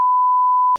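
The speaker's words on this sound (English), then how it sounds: "I'm going to bleep this out" A single steady censor bleep, a pure electronic tone held for just under a second, loud and alone, ending in a brief burst of noise.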